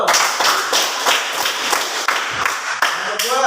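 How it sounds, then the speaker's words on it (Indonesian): A classroom of students claps together in a quick, even, rhythmic burst of applause for their group, close and lively, with some voices mixed in near the end. "Tepuk tangan untuk kelompok 1."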